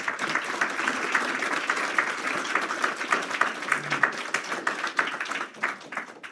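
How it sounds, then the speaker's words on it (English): Audience at a class graduation ceremony applauding instructors and staff, a steady wash of dense clapping from many hands that holds for several seconds before beginning to thin out. "So please, for a moment, please give them a round of applause."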